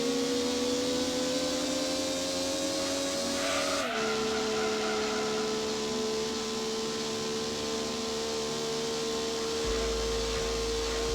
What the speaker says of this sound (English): Oh, this car is definitely a noisy fella.